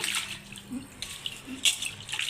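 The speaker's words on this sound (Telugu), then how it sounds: "ఇట్లా రెండు గిన్నెల్లో వాటర్ తీసుకొని ఇట్లా కడుగుతానండి నేను చికెన్" Raw chicken is washed by hand in a bowl of water, giving soft, close sloshing and splashing in uneven bursts at a low level.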